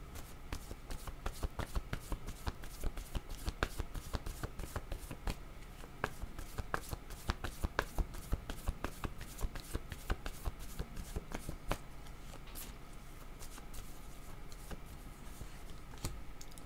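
A deck of oracle word cards is shuffled close by, a fast steady run of papery riffles and flicks with no talking.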